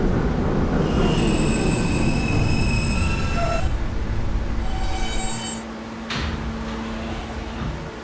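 R160A subway train on the K line running along the track, a loud continuous rumble with high whining wheel squeal that fades out midway, followed by a lower steady roll and a brief clunk.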